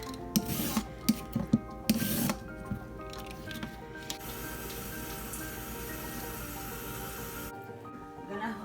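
Carrots are peeled with a peeler, a few close, wet scraping strokes in quick succession followed by a quiet kitchen background hum.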